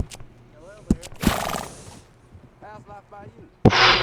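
Horse in Red Dead Redemption II giving a couple of short whinnies amid bursts of broadband noise and sharp bangs, with a voice talking over the game sounds.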